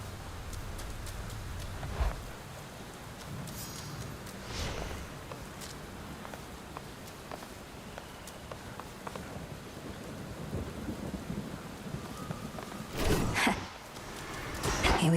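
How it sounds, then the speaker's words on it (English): Steady rain in Hades 2 hisses throughout, with rumbles of thunder and brief sharper cracks near the start, middle and end, loudest just past thirteen seconds. "The rains return."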